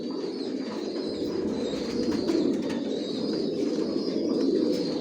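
Racer pigeons, a chocolate-coloured breeding pair nesting on eggs, coo softly and continuously in a loft, a steady low murmur with faint higher chirps above it.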